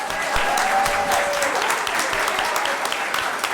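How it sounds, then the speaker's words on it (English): A room full of people at a school board meeting applauds in a dense, steady wash of clapping that lasts throughout at moderate loudness, with faint voices underneath. "Round of applause."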